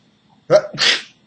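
A single loud sneeze, close by and on its own, with a sharp inhaled onset followed by a forceful burst.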